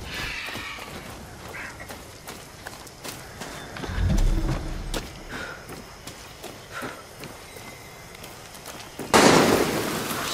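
Distant gunfire pops and bursts break out in the Far Cry 6 video game, scattered shots over ambient outdoor island sounds and footsteps, with a louder burst near the end and no talking.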